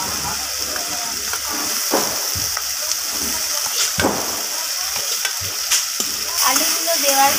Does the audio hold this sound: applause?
no